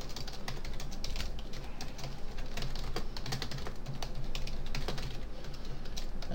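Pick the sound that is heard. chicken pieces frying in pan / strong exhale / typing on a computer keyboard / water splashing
typing on a computer keyboard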